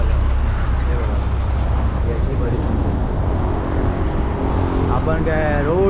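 Road traffic on a highway near Kurukshetra rumbles as a steady, loud low drone of passing trucks and vehicles, with a horn sounding near the end and someone talking over it.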